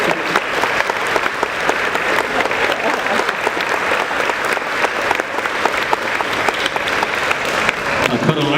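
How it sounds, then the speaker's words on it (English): A concert audience gives a round of applause, loud, steady, dense clapping that carries on unbroken for several seconds with a few sharper claps popping out. "Let's give her a round of applause."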